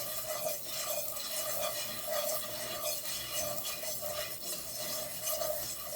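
Garlic paste is stirred into a smoked ham hock, potato and cheese casserole mixture, a steady rhythmic rubbing and scraping in a pot, close by and continuous without talk.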